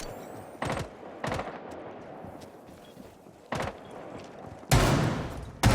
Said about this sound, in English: that was a lot of gunfire just for one camera